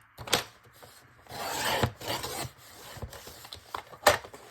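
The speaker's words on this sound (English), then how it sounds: "I'll cut the flap off before I continue that." Short rough scraping and rasping strokes as a cardboard packaging flap is cut off, quiet and close, in uneven bursts with brief pauses.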